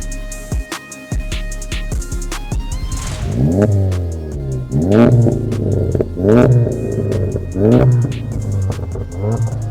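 A 406-horsepower Seat Leon Cupra tuned to Stage 2 revs hard while driving, with repeated rising engine sweeps and gear-change dips in a rhythmic pattern, loud and close, after a quieter stretch with brief sounds at the start.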